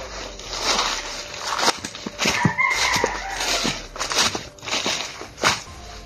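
A chicken or rooster clucks and calls repeatedly at close range in a farm setting, with loud bursts and rustling between calls.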